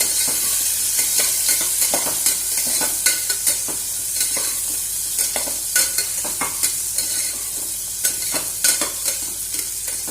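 Onions sautéing in a pan for paruppu sadam: a steady bright sizzle, with repeated scraping stirs of a spoon against the pan breaking through in irregular clicks, close and fairly loud, with no talking.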